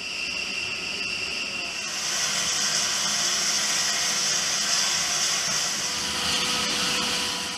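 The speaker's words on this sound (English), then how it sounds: "Each of the four General Electric F-101 GE-102 afterburning turbofans is started up separately." A B-1B bomber's General Electric F101 afterburning turbofan spools up during engine start, a steady loud whine and roar that swells partway through and holds, close by, with no talk over it.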